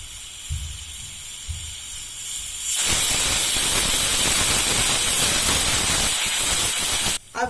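A pressure cooker on a gas stove, cooking vegetable urad dal khichdi, bursts into a loud, sustained whistling hiss of escaping steam. A few soft clinks come first, then the steady roar runs for several seconds alone and cuts off near the end.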